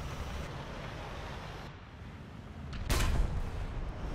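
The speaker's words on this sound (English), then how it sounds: "We'll just finish him off by shooting him right there." A single heavy cannon blast from the Strv 122B+ tank in a tank battle game, booming out near the end over a steady low engine and ambient rumble.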